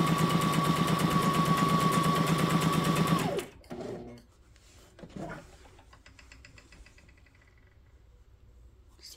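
A Brother SM2700 sewing machine stitches a small napkin with a steady, fast, loud whirring hum for about three seconds. It then stops abruptly, leaving faint handling clicks and rustles.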